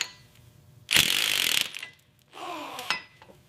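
A ratchet clicks on bolts of a 1992 Mercedes-Benz W124 500E, two close, loud bursts of rapid metallic pawl ratcheting separated by a short pause, with no talking.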